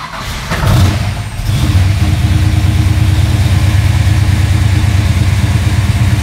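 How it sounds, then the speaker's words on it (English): A fuel-injected car engine fitted with an HEI distributor starts up close by with a brief surge of cranking, then settles into a loud, steady, throbbing idle that continues to the end. "So I start the car."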